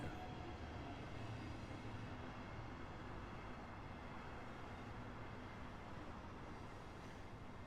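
Train running in Train Sim World: a steady, faint rumble of wheels and motor rolls on continuously with an even, unbroken texture and no speech.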